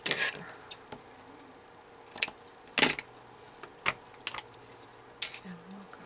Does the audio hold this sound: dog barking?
no